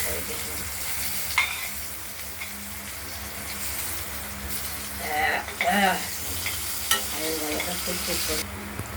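Potatoes fry in oil for a rohu fish curry, a steady sizzle with intermittent stirring scrapes and clinks, while a voice briefly speaks in the background.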